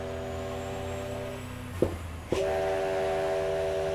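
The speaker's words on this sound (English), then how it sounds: "The whistle." Steam whistle blowing a steady multi-tone blast, loud and sustained, cut briefly by two sharp knocks before the chord resumes and holds.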